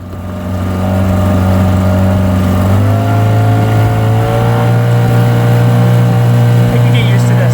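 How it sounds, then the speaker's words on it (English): Engine of a bareboat sailing charter yacht starting up and then idling steadily, a loud close rumbling drone with a brief rising rev early on before settling into an even running tone, alone without talk. "I'm going to turn on the engine."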